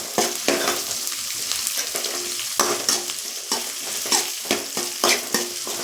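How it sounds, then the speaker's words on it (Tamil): Onions and green chillies sautéing in a pan for sambar, a close sizzle of hot oil broken by a rhythmic series of sharp scraping stirs of a spatula against the pan, no voices. "இப்போது வெங்காயம்லாம் எல்லாமே வெங்காயம் பச்சை மிளகாலாம் சேர்த்துக்கலாம். இது நல்லா வதக்கணுங்க."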